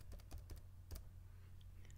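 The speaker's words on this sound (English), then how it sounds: "on your keyboard, you can hit the shift, the control, and then the V button." Several crisp keyboard presses on a computer keyboard, like a paste shortcut being typed: a quick run of clicks in the first second, then quiet hum.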